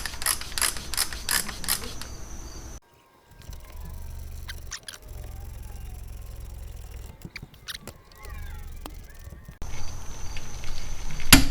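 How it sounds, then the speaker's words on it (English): Torque wrench tightening the torque plate bolts on the right front hub of a 2003 Toyota Matrix, set to 79 foot-pounds, with quiet ratcheting clicks and metallic creaks in bursts separated by short pauses. "And I am going to set them to 79 foot-pounds."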